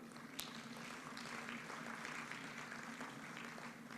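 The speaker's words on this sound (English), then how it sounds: "Would you please clap for her?" Applause from the audience at an economic forum in Uganda, heard faint and distant: a steady wash of clapping lasts the whole span, with a low hum under it.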